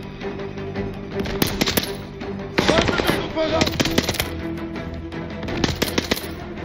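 Short bursts of tap-fired gun shots in Call of Duty Vanguard, rapid cracking clusters repeating every second or so over steady background game noise and music.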